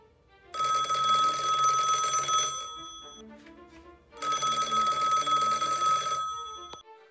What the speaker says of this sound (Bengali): পরদিনেই প্রফেসরদের ঘরে পুলিশের বড় সাহেব ফোনের ঘন্টাটা বাজিয়ে বললেন